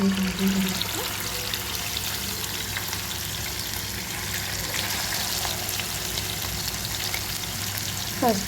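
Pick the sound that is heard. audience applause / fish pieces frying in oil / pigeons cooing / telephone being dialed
fish pieces frying in oil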